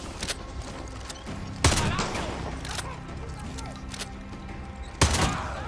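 Three sharp, loud shotgun blasts in the video game Far Cry 6, spaced a few seconds apart, each with a short booming tail over low background game ambience.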